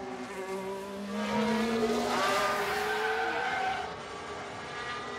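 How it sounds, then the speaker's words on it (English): Racing car in F1 Manager 23 spinning its wheels during practice in Miami, with a rising, squealing whine from tyres and engine that swells in the middle and then eases off, close and fairly loud, with no talk over it. "Bit more than a wheel spin, I'd say."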